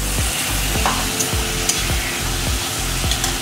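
Spice paste mixed with water hisses and sizzles in a hot pan for crab curry over high flame, with a steady loud fry and rhythmic scraping stirs about every half second.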